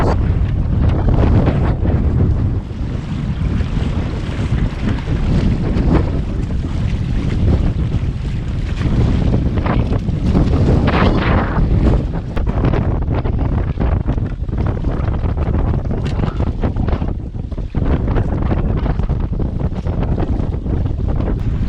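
Strong wind roars across open water off an island in Baja, Mexico, buffeting the microphone with a constant heavy rush and the wash of waves all around.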